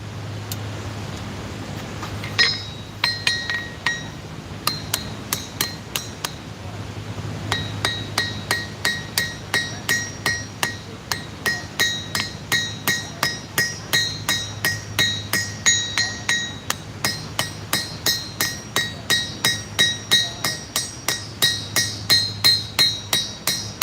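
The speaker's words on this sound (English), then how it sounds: "now that the rivet is popping out of both sides, we get to peen that edge over" A hammer peens over the edge of a rivet, striking metal in a long run of sharp ringing taps that start sparse and settle into a fast, steady rhythm, loud and close.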